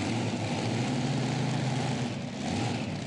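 A Hemi-powered pulling tractor at a pro pulling league event, its engine a steady, dense, continuous roar heard from a distance with no talk over it.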